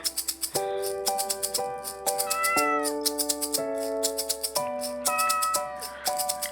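A kitten meows over and over, rapid repeated cries that rise and fall in pitch, clear and close, and they continue steadily with no talk.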